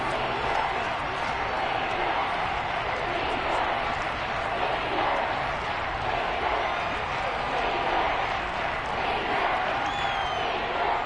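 Stadium crowd in a Madden football video game with Kansas City fans at home, a dense continuous roar that stays loud and unbroken throughout.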